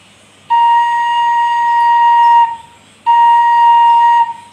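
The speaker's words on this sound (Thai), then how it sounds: "อันนี้คือเสียงโดนะครับ" A Thai khlui flute sounds a clear, steady high note twice, each held for about two seconds with a short pause between, played close and alone.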